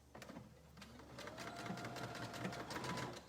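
A sewing machine fitted with a zipper foot stitches a zipper with black thread. The motor whirs steadily at close range, with a faint rhythmic tapping of the needle, and there is no talk.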